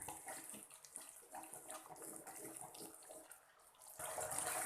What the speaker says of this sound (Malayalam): കുറച്ചും കൂടെ വെള്ളം ഒഴിച്ചു കൊടുത്ത് നമുക്ക് ഇത് ശരിയാക്കാം